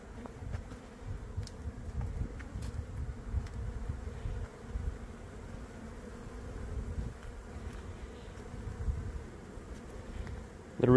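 Honeybees swarm around a syrup feeder in a blooming almond orchard on a cold day, giving a steady, dense buzz of many wings that hums continuously throughout, close and moderately loud with no talking.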